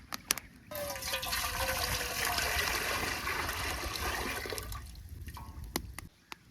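Water pours steadily into a pot for several seconds, a full rushing stream that tapers off, with a few clanks before and after.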